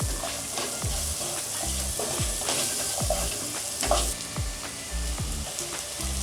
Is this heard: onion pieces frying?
yes